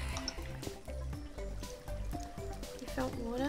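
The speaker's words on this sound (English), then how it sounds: "Oh, I found water." Flowing water in the Minecraft video game, a soft continuous wash running beneath steady overlapping conversation throughout.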